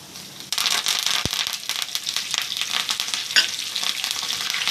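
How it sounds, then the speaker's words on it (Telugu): Curry leaves, cumin and dry red chillies spit and crackle in hot oil as a tempering for a raw mango chutney. The sizzle bursts in loudly after a short quiet start, with a sharp clack and brisk stirring through it. "కరేపాకు తాలింపులు అన్నీ కూడా బాగా వేగాలి"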